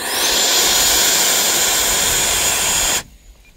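Freewing F16 90mm 8s electric ducted-fan RC jet roaring loudly with a steady high-pitched whine that cuts off abruptly near the end, leaving faint outdoor background.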